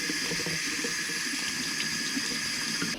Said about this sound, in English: I've put a bit of kitchen roll inside the shoe while I'm running the water on it